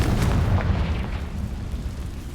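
A booming magical blast from the Confringo fire spell in Hogwarts Legacy, a dense low rumble with a sharp crack near the start that rolls on steadily for a couple of seconds.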